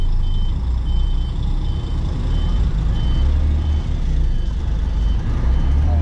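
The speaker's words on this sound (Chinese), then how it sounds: "现在做一下这个刹车的测试" A truck and trailer fitted with WABCO EBS electronic trailer braking undergoes a brake test, giving a loud, steady engine rumble with a repeating reversing-style beep throughout.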